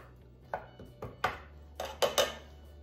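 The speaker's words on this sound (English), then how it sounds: "you'll take your muddler and just continue to press down until the raspberries are broken up" A muddler presses raspberries and mint in a glass, producing a handful of short, sharp knocks and taps at an uneven rhythm, close and fairly quiet, with no voices.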